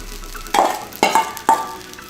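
Rice fried with Spam, onions and soy sauce is stir fried in a pan: three sharp sizzling bursts with faint metallic scrapes, spaced about half a second apart, over a quiet background.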